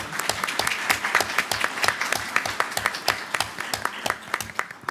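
Applause at a board meeting honoring board members, a steady patter of many hands clapping close by for about five seconds with no talk over it.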